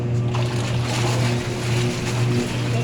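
A washing machine loaded with laundry and detergent powder runs with a steady low motor hum and soft churning water, continuous and fairly close, with no talk.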